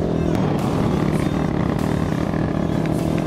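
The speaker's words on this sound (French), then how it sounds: "Ça souffle, ça souffle." Wind roars constantly against a microphone while a motorcycle rides along the seafront, a dense rumbling buffet that drowns out detail, with a voice faintly mixed in.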